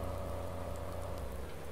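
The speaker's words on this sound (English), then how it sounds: "I can't believe it's still raining here." Steady rain falls in the farming game Farming Simulator 19 on the Oak Hill map, a soft, even, continuous patter with a low rumble beneath it and no voices.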